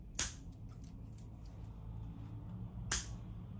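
Scissors trimming the excess off a moss pole for a Philodendron Billietiae, with two sharp, crisp snips a few seconds apart in otherwise quiet room tone.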